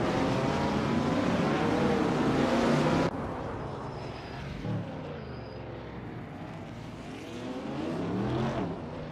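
Engines of 1970 Chevrolet race cars roar in a racing video game, a steady loud drone that drops in level partway through and then rises again, with no voices.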